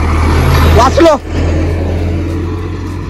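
A vehicle rushes past on a road near Tungareshwar during a motorbike ride, a broad roar that swells and fades within a second or two while a voice speaks briefly over steady road rumble.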